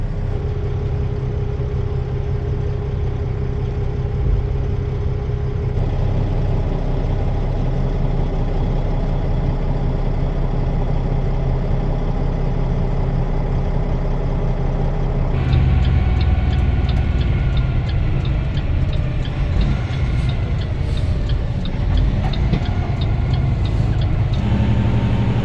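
A truck's engine idles steadily from inside the cab, a continuous low rumble that holds loud and even, with a rougher, busier texture rising partway through.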